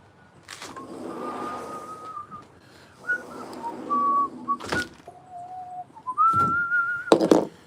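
A person whistles a slow, wandering tune of held and sliding notes, close and moderately loud, broken by a few sharp knocks and thumps.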